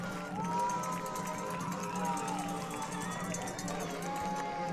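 A high school football playoff crowd roars and cheers after an interception returned 41 yards for a touchdown, a dense, steady wall of cheering voices that holds for the whole stretch, with a commentator talking over it.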